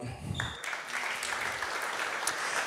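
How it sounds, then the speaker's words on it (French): Conference audience applauding a speaker at an AI and cybersecurity event: a short burst of crowd clapping that starts abruptly and holds steady, fairly faint in the room. "je crois qu'on peut l'applaudir"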